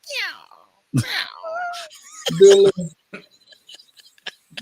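A pet cat meows a few times at close range, mixed in among people chatting and laughing in a casual indoor talk-show setting.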